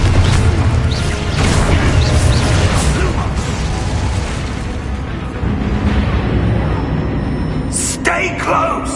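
A Confringo spell blast in Hogwarts Legacy erupts as a loud, booming burst that rumbles on amid dense game sound, with voices heard over the action.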